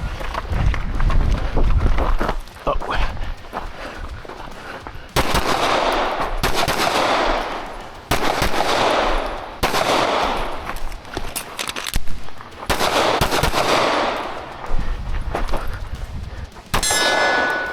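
Rapid gunshots ring against steel targets at an outdoor gun club during a 5K run-and-gun shooting challenge, sharp cracks followed by metallic clangs and pings in several quick bursts separated by short pauses.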